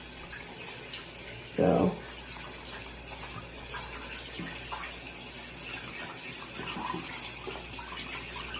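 Hands being scrubbed clean of dirt under running tap water, a continuous hiss of flowing water with a brief louder gush of splashing early on, soft rubbing sounds and a short spoken word.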